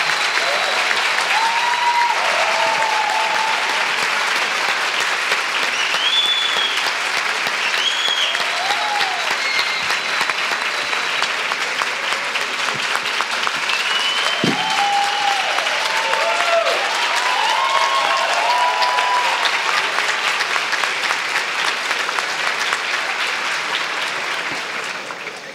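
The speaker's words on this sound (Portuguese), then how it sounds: "demonstrassem com uma salva de palmas o quanto vocês estão torcendo por eles" Long, loud applause from a large audience at an education event, dense continuous clapping lasting over twenty-five seconds with occasional cheers and whistles rising above it.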